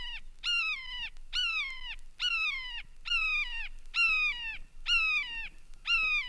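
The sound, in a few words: red-shouldered hawk calling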